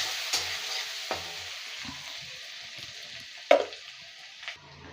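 Finely minced garlic sizzles and fries steadily in hot oil in a pan for Bengali rui fish gravy, with a few sharp stirring knocks of a spoon against the pan over the continuous crackle.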